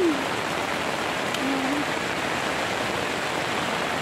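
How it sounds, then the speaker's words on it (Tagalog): Steady rain pours down in a dense, even hiss, fairly close, with no voices or breaks. "Yan po, inabutan na naman kami ng ulan."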